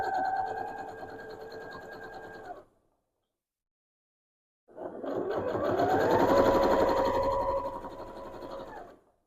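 A sewing machine runs in two steady bursts for straight-line quilting, a close, rapid mechanical whirr with a pause of about two seconds between them, the second run longer and slightly louder.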